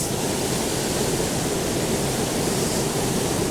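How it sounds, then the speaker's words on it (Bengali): Water rushing through the open gates of the Farakka Barrage, heard from a passing Darjeeling Mail train, a dense, loud, steady roar of noise that does not let up. "ও জল যাচ্ছে দেখুন, পুরো গেটগুলো কিন্তু খোলা রয়েছে।"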